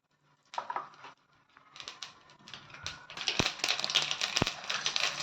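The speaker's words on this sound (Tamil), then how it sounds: "இப்போ கடுகு சேர்த்துக்கலாம். கடுகு நல்லா பொரியட்டும்." Mustard seeds and cumin crackling in hot groundnut and coconut oil on a low flame, scattered sharp pops that grow denser and louder, close up, with no talking.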